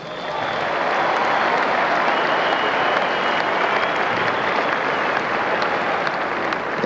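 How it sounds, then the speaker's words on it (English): A crowd applauds the Cronulla Sharks rugby league team at a 1994 grand final, producing a loud, continuous roar of clapping that swells in and stays full and even, with no voices over it. "A round of applause for the Cronulla Sharks."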